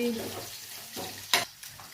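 Local village garlic hits hot oil in a karahi with meat and sizzles, broken up by a few sharp scraping stirs of the spatula against the pan.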